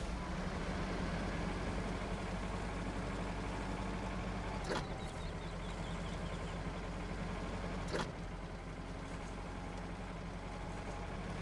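Steady low engine drone of a tractor driving in the snowy off-road game Snowrunner, continuous and moderately loud, with two brief clunks around the middle and later in the run.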